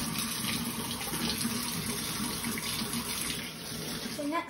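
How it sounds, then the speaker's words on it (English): Hands washed under a running kitchen tap during meal prep after handling raw meat, a steady close hiss of flowing water that fills the whole stretch without pause. "And then I'm just going to wash my hands."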